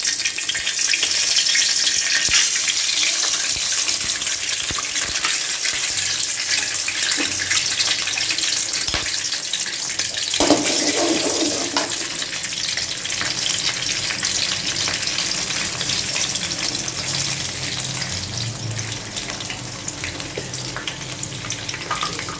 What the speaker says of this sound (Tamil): எக்கை உடச்சி ஊற்ற போகிறோம்.